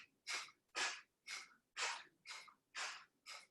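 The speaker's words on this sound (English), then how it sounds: "So you're just alternately breathing out." Sharp, forceful nasal exhales in alternate nostril breathing during a yoga session, seven rhythmic bursts about half a second apart, close and distinct with brief pauses between them, no talk.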